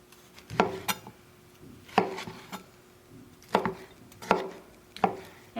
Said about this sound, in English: So we're just chopping these up into pieces here.